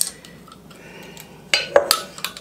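A knife cuts apple slices for pie filling against a board, a few crisp, sharp taps and clicks clustered near the end after a quiet stretch of faint handling noise.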